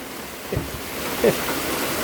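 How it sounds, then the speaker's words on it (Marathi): Heavy rain pours steadily during a cloudburst, with a constant broadband hiss close by; a couple of faint thumps and a short voice sound break through briefly. "एकदम जोरात पाऊस चालू आहे बघा"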